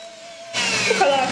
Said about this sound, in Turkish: ve 2-3 dakika mikserle çırpıyoruz.